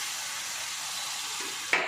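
Tamarind water poured into a sizzling South Indian tempering with curry leaves for a Bellary-style sandige gojju, a steady close hiss of hot oil ending in a brief louder burst as the liquid hits the pan.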